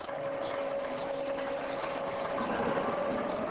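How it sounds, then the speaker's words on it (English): Sheet metal being curved as it passes through three offset forming rollers, a steady, continuous mechanical drone with a faint whining hum that holds evenly throughout, with no talk. "To curve a sheet or strip of metal, it is passed through 3 offset rollers."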